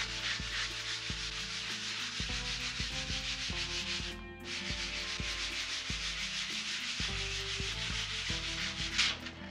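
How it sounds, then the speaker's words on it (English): Folded 150 grit sandpaper rubs lightly across a wood surface during prep, a steady close scratchy sanding with regular back-and-forth strokes running continuously and loud, with no talking. "This is 150 grit sandpaper. I just folded it in thirds. I'm not pressing very hard."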